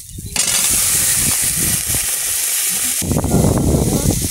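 Potatoes and five-spice seeds drop into hot oil for a Bengali fish-head curry, setting off a loud, steady sizzle up close that swells again as more goes into the pan.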